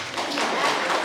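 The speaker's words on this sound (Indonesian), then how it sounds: "Beri tepuk tangan." A short burst of applause from a small group at a Catholic wedding blessing ceremony, dense and fairly close, lasting about a second.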